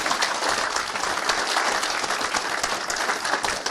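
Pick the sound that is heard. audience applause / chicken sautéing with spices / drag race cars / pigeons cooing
audience applause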